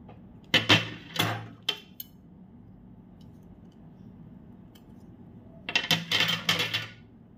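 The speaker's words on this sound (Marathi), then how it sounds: "आता मी हे फळ कापत आहे." Knife slicing through a prickly pear fruit, several short crisp cutting clicks in two bursts separated by a quiet pause, close and fairly faint.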